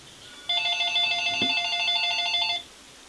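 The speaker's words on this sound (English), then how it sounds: "Sam, get the phone." An old-style telephone bell rings in one continuous burst of about two seconds, loud and steady over faint room hiss, with a brief low knock partway through and no speech.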